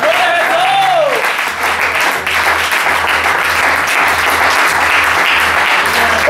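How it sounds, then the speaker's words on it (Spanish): Congregation applauding in a church during an evangelical sermon, a loud, sustained burst of clapping from many hands with crowd noise and some voices mixed in. "Dale un aplauso al Cristo de la gloria."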